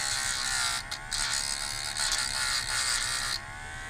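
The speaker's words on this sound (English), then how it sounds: "I take the Dremel tool with cutoff wheel" Dremel rotary tool fitted with a cutoff wheel, run at low speed to roughen the bottom of a model railway wheel, giving a steady high-pitched whine with a couple of brief dips as it touches the metal, close and alone.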